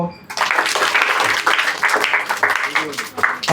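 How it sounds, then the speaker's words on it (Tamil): Audience clapping at a self-improvement talk, with choppy rhythmic claps rising after a brief start and continuing in bursts, with voices mixed in. "கைதட்டுங்கோ"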